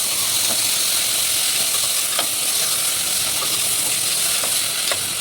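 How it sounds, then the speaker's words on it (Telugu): Tomatoes fry and sizzle in a pan while a spoon stirs them for tomato rice, a loud, steady hiss broken by occasional scraping clinks of the utensil, close up with no talking. "ఇప్పుడు టమాటా వేసేసుకోవాలండి. వేసేసుకుని బాగా కలుపుకోవాలి."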